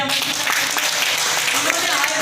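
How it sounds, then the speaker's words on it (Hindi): Audience applause at a DXN group gathering, a dense, steady wash of clapping lasting the whole stretch with a voice faintly mixed in. "जोरदार ताली बजाइए"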